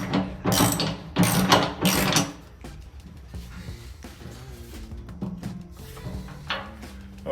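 Ratchet tightening carriage bolts while a snowplow is mounted on a 2021 Honda Pioneer 700 side-by-side, three rapid loud clicking bursts up front followed by quieter scattered clicks and metallic handling.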